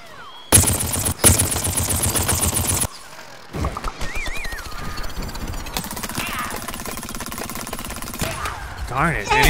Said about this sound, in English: And he's shooting at me directly.